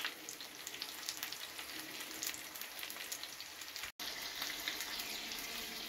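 Chicken thighs fry in a pot with a steady, dense sizzle and crackle, fairly soft and close, with no talking.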